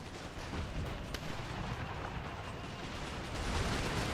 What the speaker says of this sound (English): Cannons blasting the enemy.